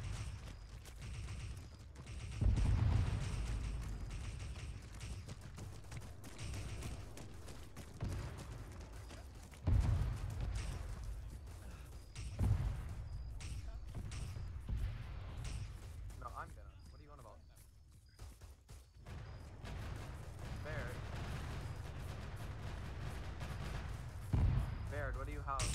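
Heavy explosions in Arma 3 combat with a Warhammer 40k setting, a few deep booms spaced through a steady rumble of battle, heard beneath near-constant talking between players.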